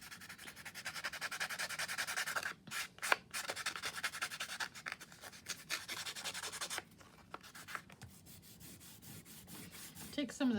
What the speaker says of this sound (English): I'm just going to scuff this up